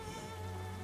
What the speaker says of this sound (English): That's it. It's raining.